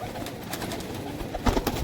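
Pigeons of the Salara and Sialkoti breeds, high-flyer birds brought from the Punjab border region, give soft low cooing calls near the mic, with a brief cluster of louder coos toward the end.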